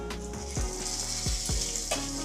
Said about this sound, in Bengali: এবার একটু শুকনো লঙ্কা আর কালো জিরা ফোড়ন দিয়ে দিচ্ছি।